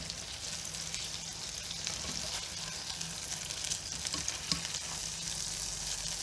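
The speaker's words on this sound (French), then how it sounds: "on a mis une poêle à chauffer, on a mis un peu de beurre. On met nos 3 steaks." Three hamburger steaks frying in butter in a heated pan, producing a dense, steady sizzle close up with occasional small pops and scrapes.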